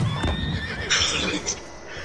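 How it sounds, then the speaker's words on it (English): A horse whinnies nearby outdoors during a wagon trip, a shrill, wavering neigh over rumbling movement and background noise. "There's a random ass horse right there."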